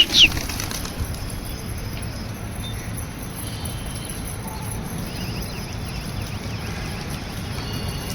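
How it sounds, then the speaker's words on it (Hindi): Young pigeons flap their wings in a sustained, fairly loud rustling flutter that starts with a brief burst and continues steadily through, with no talking. "नहीं नहीं जवान कबूतर हैं भाई"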